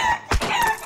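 A chicken or ostrich in the Bird Assassin video game gives a loud, close, short squawking cluck with a sharp burst in the middle.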